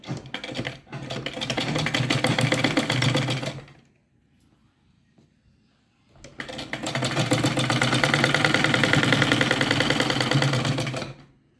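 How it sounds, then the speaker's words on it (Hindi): A sewing machine stitches the front part of a blouse in two long runs of rapid, even mechanical clatter, separated by a couple of seconds of near silence, loud and close. "अब ऐसी सिलाई कर देंगे"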